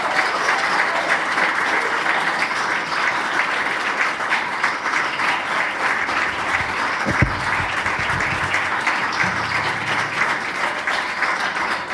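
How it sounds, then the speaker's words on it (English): Steady, dense applause from an audience at a talk show held in an ambassador's residence, many hands clapping evenly and close for the full stretch, with a couple of faint thumps partway through. "Thank you very much for the applause."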